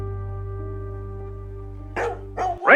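A dog gives a few sharp barks, two or three quick close yaps near the end, over a steady low electrical hum.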